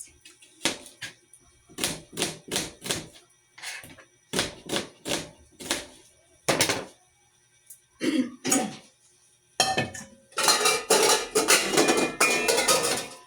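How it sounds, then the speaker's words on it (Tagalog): Knife chopping onions on a board, clusters of sharp rapid taps in uneven bursts with short pauses, ending in a fast dense run of cuts, close and crisp. "Maghiwa ako ng sibuyas."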